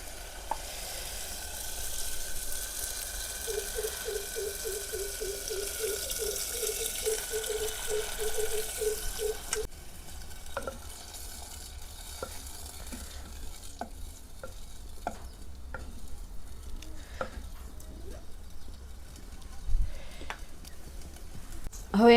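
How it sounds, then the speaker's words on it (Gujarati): Boiled chana dal tipped into a cooked, oil-separated masala and stirred in a pan, with a wet sizzle and scraping strokes, a short run of rhythmic stirring, then softer intermittent clinks and scrapes close by. "હવે એમાં આપણે આ બાફેલી દાળ નાખી દેવી"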